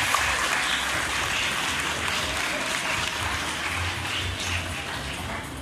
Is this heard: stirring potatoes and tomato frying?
no